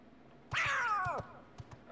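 A cat in the video game Kingdom Hearts lets out a single loud, drawn-out meow that slides downward and fades, followed by a few soft thuds.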